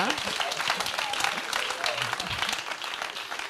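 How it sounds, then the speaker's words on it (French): A TV competition show audience applauds loudly and steadily while voices and cheering mix in over the clapping throughout. "Ça s'applaudit"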